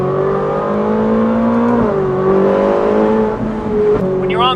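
Ferrari 458 with a Valvetronic Designs exhaust and stock downpipes, a loud, close, high-pitched engine note that holds steady, dips briefly, then rises again with a quick rev at the end.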